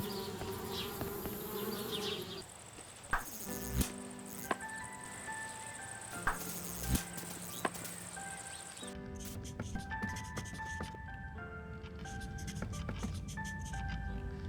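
Bees buzz around a treehouse in the adventure game Anna's Quest, a steady insect drone set among game music and sound effects with a few sharp clicks and knocks, and a clear shift in the background partway through.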